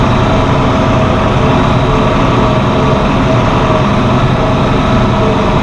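A farm vehicle's engine runs steadily at idle with a loose muffler, giving a continuous low rumble with a faint rattling edge throughout.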